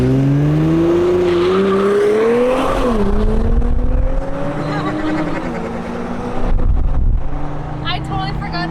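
A BMW M6 GT3 race car launches hard at a local shop meet, its engine note climbing steadily in pitch through the gears, loud and close, with people talking nearby.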